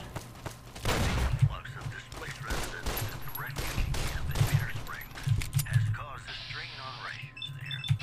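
Gunfire rattles in Fallout New Vegas in repeated shots and short volleys at moderate distance, while a player talks over the action.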